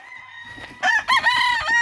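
A gamecock crows loudly and close by on a gamefowl farm, one rising then sustained call, with quieter clucking and farm noise beforehand.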